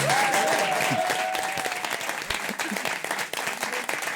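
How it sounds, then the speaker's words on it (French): A studio audience breaks into a loud, sustained ovation, dense clapping filling the whole stretch as a guest is welcomed on a French television show, with a brief whistle rising above the crowd at the start. "je vous demande de faire une ovation à monsieur Nelson Montfort"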